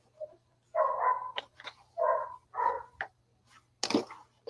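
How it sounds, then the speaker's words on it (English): A dog barks in short, loud bursts nearby, several separate woofs with brief gaps, ending in a sharper yelp, in an otherwise quiet room. "The dog is losing her biscuits."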